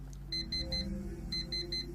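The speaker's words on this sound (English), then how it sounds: "Realistic alarm." Alarm clock ringing in a video game: a rapid electronic beeping in repeated short bursts of four pulses, clear and steady over a low hum.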